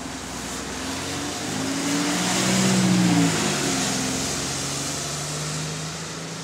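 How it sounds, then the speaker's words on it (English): City bus engine with an E40D Torpedo ZF gearbox revving as it passes, a loud rumbling drone that swells and rises in pitch, then eases off and holds steady. "you see how E40D Torpedo ZF revs here"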